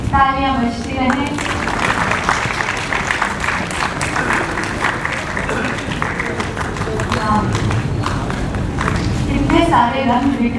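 Audience applause at a stage event honouring writers, a sustained wash of clapping from a crowd running the whole time, with a voice speaking over it.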